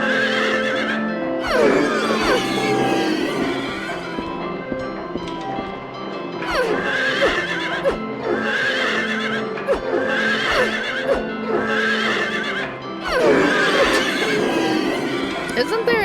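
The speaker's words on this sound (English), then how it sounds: "The horses freaked me out when I was a kid." Horses in the survival horror game Silent Hill 3 neigh and whinny in several loud, drawn-out cries spaced a few seconds apart, with clip-clop hoofbeats and a person talking over them.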